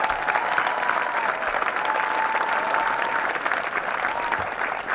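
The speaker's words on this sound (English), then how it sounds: "Please join me in giving the 921 graduating class and our latter graduate another round of applause." An audience at an LAPD recruit officer graduation ceremony claps for the graduating class in steady, sustained applause, loud and continuous throughout.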